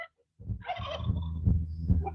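Close-up chickens calling in a burst of rapid clucking and gobbling sounds, with a brief silent gap at the start.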